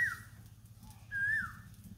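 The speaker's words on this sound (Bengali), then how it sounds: "কোকিল পাখি ডাকবো" An Asian koel calls twice in a village during spring. Each call is a clear, whistled note, with a short gap between them, heard over a low, steady background rumble.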